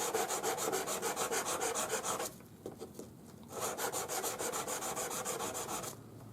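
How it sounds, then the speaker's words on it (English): Quick, rhythmic rasping strokes of sanding the edge of a twisted wire ring up close, in two bursts separated by a brief pause. "There's a little bit of sanding on the edge"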